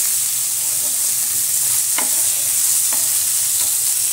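Spice masala for a rustic raw banana dhokla curry frying steadily in a pan, a continuous close sizzle broken by three sharp scrapes of stirring, with no talk.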